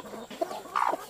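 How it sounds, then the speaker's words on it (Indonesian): Bantam chickens cluck in two or three brief, close calls, with one sharper squawk near the end, in a single short burst. "Ayam kate pula ada di sini."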